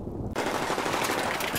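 Video game gunfire, a loud close burst of rapid automatic shots that starts abruptly and continues as a dense rattle.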